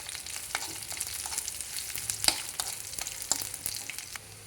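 Dried red chillies and onions fry in hot tempering oil for a winter sesame-powder curry, a soft continuous sizzle scattered with sharp crackles and pops, fairly quiet and close, with no voices.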